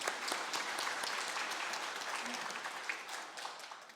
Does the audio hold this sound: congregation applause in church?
yes